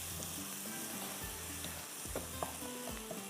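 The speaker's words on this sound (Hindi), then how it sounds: "अदरक लहसुन ये डाल देंगे। बस ज़रा सा मसाले को इस तरह से हमने मिक्स करना है।" Ginger, garlic and turmeric fry in a pan with spices, a steady close sizzle broken by a few soft knocks and scrapes as the mix is stirred.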